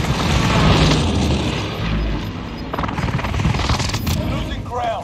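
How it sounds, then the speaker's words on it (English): Deep booming blasts and scattered gunfire from an airstrike in Call of Duty Warzone, rumbling loudly under a voice talking throughout, with a heavy low thud near the middle. "Be advised, friendly position airstrike inbound."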